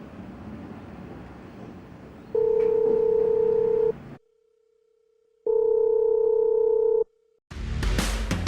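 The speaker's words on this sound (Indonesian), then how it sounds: "Gue harus nelfon Nasya sama Kiki" Telephone dialing tones: two long, steady beeps separated by a silent pause, then a burst of line noise, heard close and clear with no voices.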